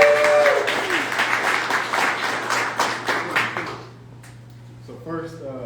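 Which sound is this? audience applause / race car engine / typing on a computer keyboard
audience applause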